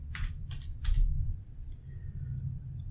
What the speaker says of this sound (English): So here I would type in 160.